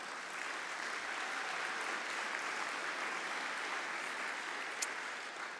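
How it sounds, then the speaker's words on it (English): Steady, sustained applause from a convention audience at an Optimist International business session in Ottawa, a dense wash of many hands clapping at even loudness throughout, with no talk over it. "Give her a big round of applause,"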